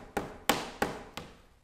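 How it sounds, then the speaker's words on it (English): Warm, flexible rubber tubing tapped four times in a slow, even rhythm, giving soft, dull knocks that fade quickly in a quiet room. "warm rubber sounds like this."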